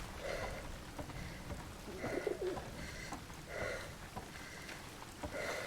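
A pigeon coos in the video game 11-11: Memories Retold, soft repeated calls in a slow rhythm over a faint rain-like background hiss.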